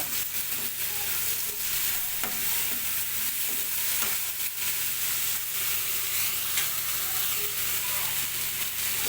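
Chopped onions and tomato pieces sizzle in a pan while a spoon stirs and scrapes through them, irregular clicks and knocks over a steady close frying hiss.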